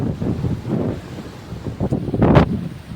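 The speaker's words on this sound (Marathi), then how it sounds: "हवेशीर हवा सुटली मस्त की. पाण्याच्या लाटा बी लागल्या तिथं हळूहळू." Gusty wind buffets the microphone at a waterside spot, with a low rushing roar of small waves that swells near the end, and no talk heard.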